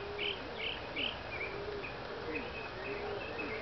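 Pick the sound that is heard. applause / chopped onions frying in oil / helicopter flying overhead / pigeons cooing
pigeons cooing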